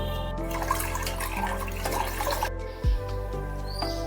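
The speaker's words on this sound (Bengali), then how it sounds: "মটর ডালটা একটু ধুয়ে নেব।" Split peas (motor dal) being rinsed in water, a quiet swish and trickle of water over a low steady hum, brief and close.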